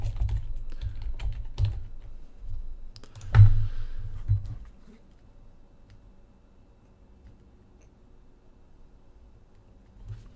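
Keys tapped on a computer keyboard while entering a CAPTCHA, a run of quick close clicks for about four seconds with one louder clack near the middle, then near silence with faint room noise.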